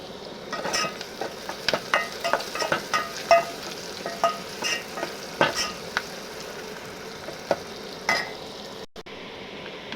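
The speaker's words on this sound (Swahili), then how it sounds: "My kitunguu is almost turn brown" Chopped onions sizzle and fry in a pot while being turned until brown for pilau, a steady crackle broken by repeated scraping stir strokes, close and moderately loud.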